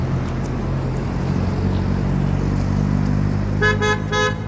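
Busy road traffic in Fahaheel, Kuwait, with a steady engine rumble and passing cars, then several car horns honking repeatedly near the end.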